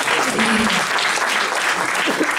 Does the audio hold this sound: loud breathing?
no